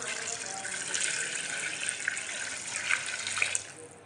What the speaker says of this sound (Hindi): इसके साथ ही हम चार गिलास पानी शामिल कर देंगे।